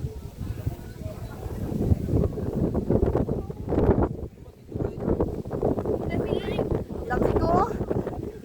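Very strong, cold wind blows at a hillside spot in Tanay, Rizal, roaring and buffeting the microphone continuously as people talk over it.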